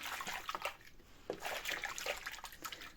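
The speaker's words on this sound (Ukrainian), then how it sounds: "Беремо нашу шапочку і занурюємо її в водичку." A wool knit hat is pushed down into a basin of soapy washing water, faint close sloshing and dribbling splashes with small drips, quiet and without talk.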